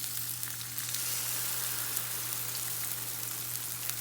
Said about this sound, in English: We fried those up, of course, in some drippings